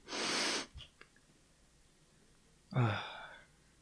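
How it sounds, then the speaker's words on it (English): A person takes two loud, close breathy sniffs at a freshly opened calzone box, separated by a quiet pause with a faint rustle. "Let's sniff it. Sniff it with me."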